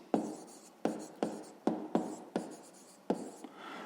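Pen or chalk writing by hand during a math lesson, a close series of about seven sharp taps and short scratchy strokes at an uneven rhythm, each decaying quickly, with no talk over them.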